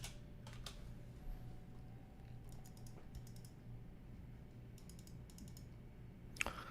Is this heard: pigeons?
no